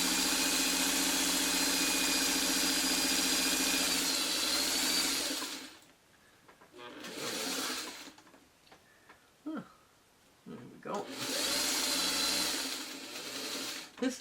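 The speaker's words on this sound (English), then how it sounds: "This is the sewing machine I take to retreat." A sewing machine used for quilting runs in loud whirring bursts, stopping and restarting twice with quieter pauses and a few faint clicks and sounds of handling between runs.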